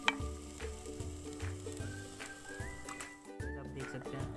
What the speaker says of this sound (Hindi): अब इसमें हम जो हमने नीचे चिकन बनाया था उसको इसमें डालेंगे